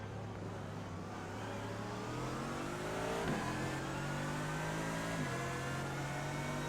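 A GT3 race car in the iRacing game threads the chicane at Spa, its engine droning loud and steady with pitch rising through the gears and brief dips at each downshift and upshift.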